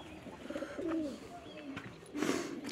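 Pigeons in a pigeon loft give soft, low coos, a few rolling calls rising and falling against a quiet indoor background.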